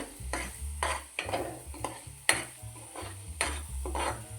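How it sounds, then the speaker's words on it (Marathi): Khoa being stirred and roasted in ghee over a low flame for kheer, with a soft sizzle under rhythmic scraping strokes of a spoon against the pan and occasional metallic clinks, close up with no speech. "ह्याला बारीक गॅसवरच तुपामध्ये परतून घ्यायचा आहे तर हलकासा खवा भाजून घ्यायचा आहे"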